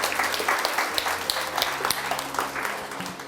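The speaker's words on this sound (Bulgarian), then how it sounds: "аплодисментите за теб тази вечер" Audience applause at a book launch evening, a steady wash of many hands clapping fairly close, with faint voices mixed underneath.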